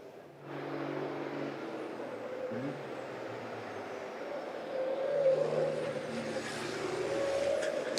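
Race cars lapping the Zolder circuit during a qualifying session, engines droning steadily at a distance with tones rising and falling as they work through corners, while a commentator talks over the sound throughout.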